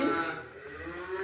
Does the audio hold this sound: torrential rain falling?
no